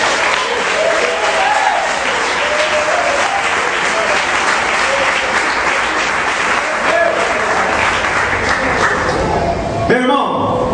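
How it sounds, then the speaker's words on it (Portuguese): A church congregation applauds with sustained, dense clapping for about ten seconds, loud and close, then tapers off abruptly near the end. "Quem pode aplaudir o Senhor e dar glória a Deus?"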